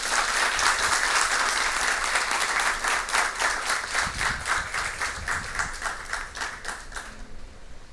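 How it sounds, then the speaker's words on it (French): An audience at a high school match in Haiti claps steadily for several seconds, a dense wash of many hands with a few louder individual claps, tapering off at the end. "que je vous demande d'applaudir très chaudement, s'il vous plaît"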